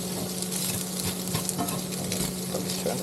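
Fried rice sizzling and frying in oil on an induction cooktop inside an Airstream motorhome, a steady close crackling hiss with faint stirring scrapes throughout and no talk.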